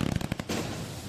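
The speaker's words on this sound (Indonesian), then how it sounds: "menyalakan kembang api sebagai ekspresi kegembiraan atas penetapan status tersangka terhadap Bupati Pati Sudewo" Fireworks set off at night during a street celebration in Pati, Indonesia, start with a rapid string of sharp crackling pops. A brief roaring hiss follows and fades out.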